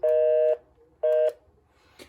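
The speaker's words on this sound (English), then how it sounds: "And we got the busy tone, which is completely normal." Busy tone from a universal TEL-4633 landline telephone: two loud steady beeps, the first about half a second and the second shorter, separated by silence, then a faint click.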